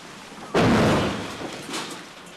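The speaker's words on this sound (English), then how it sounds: "Tank fire hammers the bunker." A sudden loud blast from tank fire striking a bunker during fighting in northern Ukraine, a sharp single impact followed by a rumbling decay and a smaller second thud a moment later.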